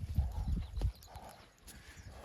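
A mare's hooves clip-clop in a quick, skipping burst of several close, loud steps, then fade into quieter outdoor background.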